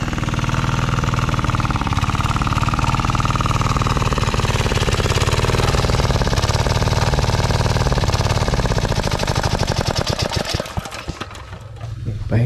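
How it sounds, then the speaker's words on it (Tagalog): A worn, struggling diesel engine on a farm runs steadily and loud close by, its rough mechanical rumble continuing throughout before faltering and sputtering near the end. "Naghihingalo na yung makina namin,"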